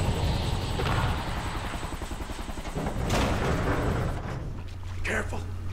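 Helicopter in the video game Kane & Lynch 2, a steady rotor drone filling the scene under shouted dialogue, with a sharp burst near the middle and the roar easing toward the end.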